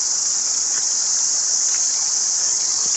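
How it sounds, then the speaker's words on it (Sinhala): Cicadas by a forest river in New Zealand give a steady, high, unbroken buzzing drone that fills the whole span at close range, with no talk over it. "රහයියන්ගේ සද්ද ඇහෙනවනේ."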